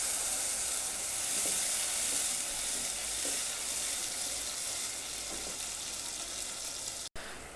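Spice paste added to oil with toasted cumin and nigella seeds, frying with a soft steady sizzle and faint stirring, fairly quiet, ending in a brief click.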